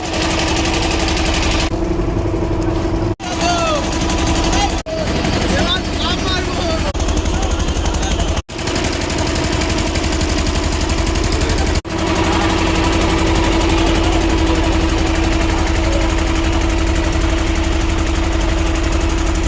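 A loud, steady engine drones throughout while a river boat carries passengers to a char, with occasional sharp cuts and thumps and some talk in the background.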